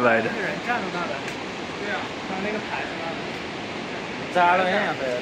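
A broad, constant roar of rushing mountain river water fills the scene on the Annapurna trek between Upper Sinuwa and Deurali, with voices talking faintly over it.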